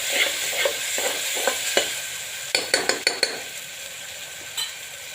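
A big spoon stirs ginger, chilli and garlic paste into onions frying in hot oil, with a run of quick clicking scrapes against the pan over a steady sizzle, loudest in the middle and then easing off.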